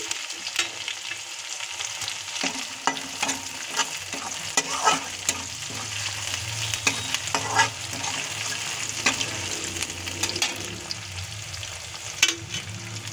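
Garlic and green chillies fry in a pan with steady sizzling and frequent scraping, clattering stirs, close and continuous with no talking.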